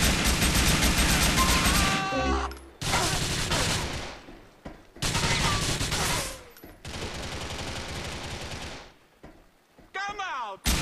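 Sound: gunfire in the video game GTA IV

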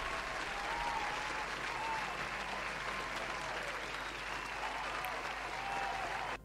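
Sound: applause

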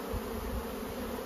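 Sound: honey bees buzzing as they are shaken off a frame

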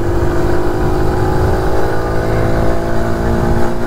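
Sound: TVS XL 100 moped engine revving, throttle response

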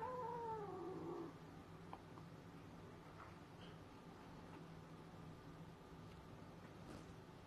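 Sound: kitten meowing

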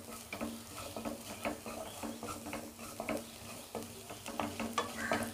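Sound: stirring fish masala in a pan

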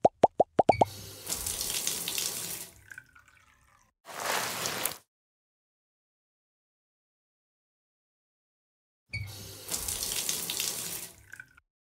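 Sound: bath water running in Sarah & Duck video game

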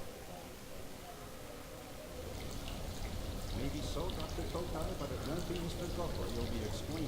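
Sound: water pouring in the video game Afterfall: Insanity

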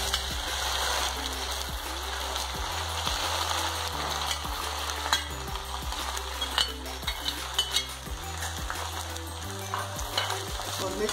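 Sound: okra frying in hot oil with cumin

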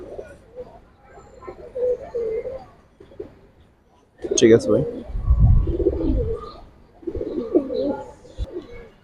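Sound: pigeons cooing

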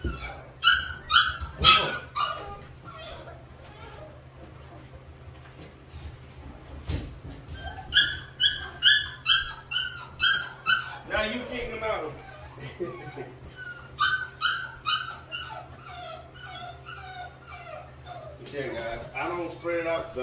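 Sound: puppies barking and whimpering

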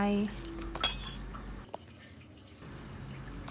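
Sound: spooning ground chili into salad dressing, utensils clinking

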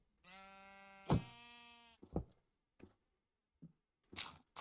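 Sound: sheep bleating in a Minecraft-style video game

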